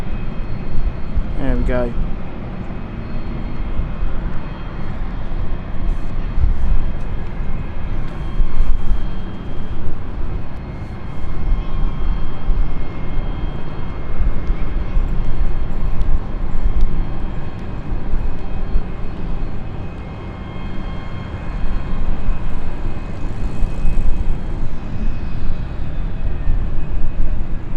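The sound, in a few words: KLM passenger jet landing at London City Airport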